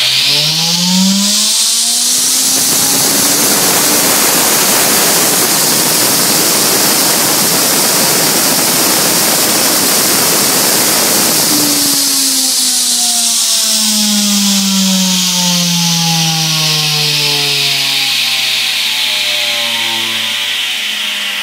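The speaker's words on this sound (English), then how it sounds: "I'm going to give it a little power to that motor down there now." An electric motor on a MegaSquirt-3 test rig spinning a 36-1 trigger wheel past a Hall sensor whines up in pitch, roars loudly at speed with a harsh rushing noise, then winds down in a long falling whine.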